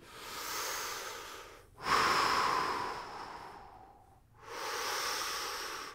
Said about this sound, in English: Breathing, nice deep breaths.